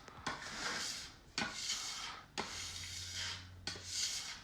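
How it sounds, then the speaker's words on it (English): A flat metal blade scrapes across a hard countertop in four quick, separate strokes, close up and fairly quiet. "This is where you want the pastry cutter as well to clean your counter."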